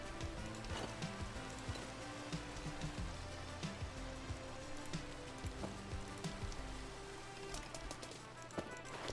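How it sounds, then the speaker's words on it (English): Rain falls in the GregTech New Horizons modpack video game as a steady hiss of drops pattering on surfaces, running continuously beneath layered game music tones and scattered clicks. "Oh, it's raining outside."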